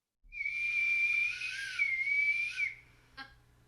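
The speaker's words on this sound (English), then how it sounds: "That's Oscar and Charlie whistling with acorns" Piercing, wavering whistle blown across an acorn cap, one sustained shrill tone lasting about two and a half seconds with slight pitch bends, followed by a short faint chirp.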